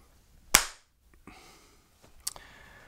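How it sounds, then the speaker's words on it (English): A single sharp hand clap marks the start of an interview recording, loud and close, followed by quiet room noise and a couple of faint softer knocks. "We'll start with the clap."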